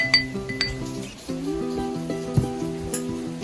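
A spoon stirring muddled mint and syrup in a glass for blueberry mojitos, with light ringing clinks against the glass at a gentle, uneven pace, close and quiet, no talking.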